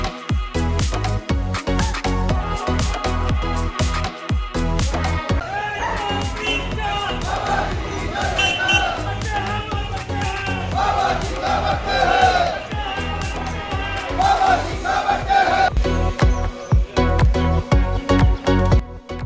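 A large crowd roars and cheers at an Ambedkar Jayanti procession rally gathered on a school sports ground in Berinag, Uttarakhand; loud, dense and continuous, with a dog barking at moments.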